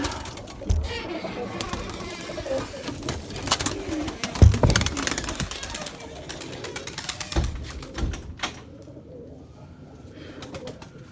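Pigeons cooing nearby, soft repeated throaty calls amid fluttering and shuffling noises, with occasional louder knocks.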